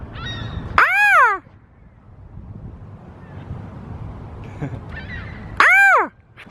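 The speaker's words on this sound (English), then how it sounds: "the birds are making tons of noise" Two loud crow caws ring out in a park, each a harsh, close call, separated by several seconds of wind rumble and faint distant bird chatter.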